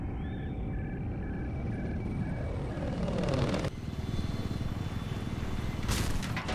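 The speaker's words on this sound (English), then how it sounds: "Okay, I see two helicopters" Helicopters flying in a video game give a steady rotor and engine rumble with a faint whine that swells around the middle, then settles into a continuous drone, with no talk over it.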